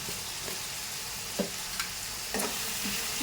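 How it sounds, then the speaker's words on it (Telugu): Tomatoes frying with cabbage, salt and turmeric in a pan give a steady hissing sizzle, close and moderate, broken by a few soft knocks and scrapes of a stirring spoon, with no one speaking. "ఇప్పుడు టమాటాలు వేస్తున్నాం కొంచెం అయితే ఉప్పు వేసుకున్నాం"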